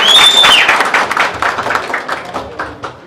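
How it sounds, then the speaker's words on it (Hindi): At a Bhojpuri film audio launch, an audience applauds the music director, a loud burst of clapping that starts full and gradually thins and fades over a few seconds. "मैं चाहूंगा सब इनके लिए जोरदार तालियां दें प्लीज।"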